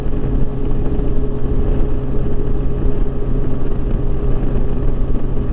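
Steady roar of a 2007 Yamaha FJR 1300 sport-touring motorcycle under way, a dense engine drone mixed with heavy wind rush, constant and loud with no letup or talk.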